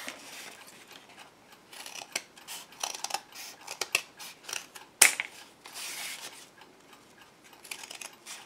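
Paper being cut with scissors for a toilet paper roll booklet: a run of close, crisp snips and rustles in irregular bursts, with one sharper clack midway and no talking.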